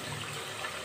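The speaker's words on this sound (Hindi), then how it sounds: "तो पानी शामिल कर दिया है मैंने इसमें" Water poured into a pot of chicken korma during cooking, a faint, steady splashing and running wash with no speech.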